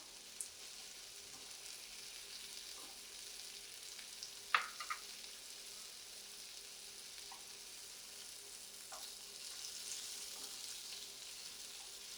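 Barbecue pork chops frying in a pan, a quiet continuous sizzle with a few faint scrapes and clicks and one sharper knock partway through, no talking.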